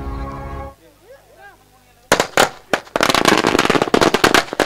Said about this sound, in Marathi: फटाक्यांच्या आतिषबाजीमध्ये आगमन होतोय